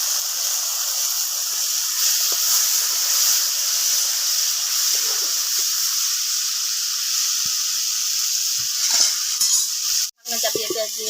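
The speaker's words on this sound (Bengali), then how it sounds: "চাপিয়ে দিয়ে আমি মশলাটাকে কষে নেব" Spice masala with turmeric, salt and chili paste water sizzles in a pan while being stirred, a steady close hiss with small scraping touches, then a sharp clatter near the end.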